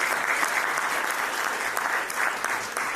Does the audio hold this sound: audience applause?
yes